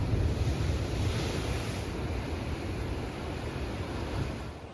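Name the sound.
big ocean waves breaking at Hilton Waikoloa beach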